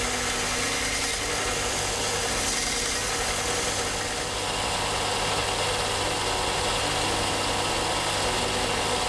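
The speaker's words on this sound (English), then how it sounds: "a quick touch on the belt sander ensures that the rest of the front of the shank is also clear" Belt sander grinding the shank of a shop-made gear cutter, a continuous loud mechanical whir and grinding drone that holds steady throughout with no voices.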